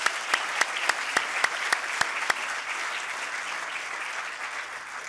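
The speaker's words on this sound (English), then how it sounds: "let's give them a round of applause for everything they've done to make this happen" At a 2019 graduation ceremony, a crowd's applause is punctuated by a series of sharp, close single claps at a regular rhythm before the clapping settles into a continuous, softer wash.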